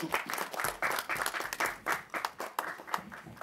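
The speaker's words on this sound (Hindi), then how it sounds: "जोरदार तालियां।" At a film trailer launch, an audience claps in uneven surging bursts, moderately quiet, with individual hand claps standing out in an irregular rhythm.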